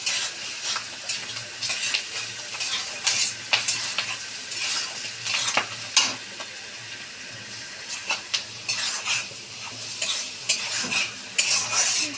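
Vegetables and chickpeas fry in a pot for a mixed khichuri, with a steady sizzle under repeated scraping and clattering stirring strokes, close and fairly loud, with no talk.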